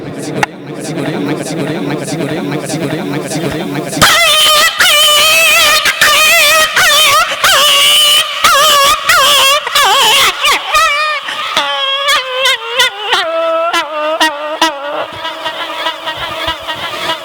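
A voice imitates puppies fighting and crying with a rapid run of choppy, high whimpers and yelps whose pitch slides up and down. It follows a brief busier stretch of other sound.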